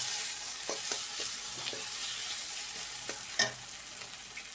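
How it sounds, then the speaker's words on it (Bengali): Spice paste sautéing in a pan before eggs and potatoes go in for an egg-potato curry, a steady close sizzle broken by soft spatula scrapes and taps, with one sharper clack near the end. "এবার ভালো করে কষিয়ে ডিম আলুগুলো দিয়ে দেবো। ভালো মতো মশলাটা কষানো হয়ে গেছে।"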